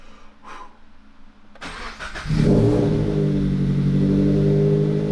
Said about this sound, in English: we are going to start the engine for the first time